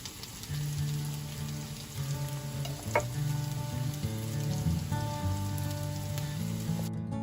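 Potato latkes sizzle and crackle steadily in a hot oiled frying pan, a close, even frying hiss running throughout with no talking.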